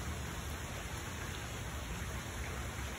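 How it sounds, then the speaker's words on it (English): Steady rain falls outside in a backyard, a dense, even hiss of drops that stays constant throughout with no voices over it. "Closing the eyes as it starts to rain outside in my backyard."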